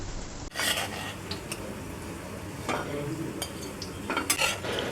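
Raw jackfruit kebab cutlets frying in a pan, each side browned: a close, continuous crackling sizzle with occasional spatula clinks and scrapes against the metal, no voices.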